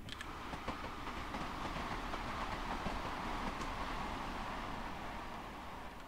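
Rail wheels clatter steadily over track switches in a train simulator on the Great Western Express route, a continuous rumbling roll with faint clicks, alone at a constant level.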